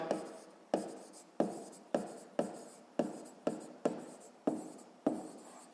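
Numbers written by hand during a sixth-grade math exercise: about nine separate pen strokes, each a sharp scratchy onset fading out, in a quiet room with no talking.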